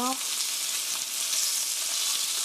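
Chicken pieces fry in a pan with a dense, bright, continuous sizzle, nudged gently around, after a brief tonal sound at the very start.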